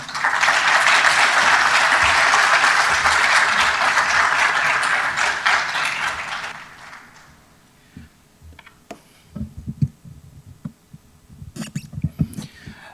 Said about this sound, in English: Another round of applause for Mrs. Donovan